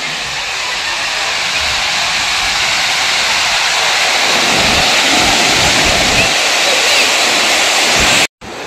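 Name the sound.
Dassam Falls waterfall, water rushing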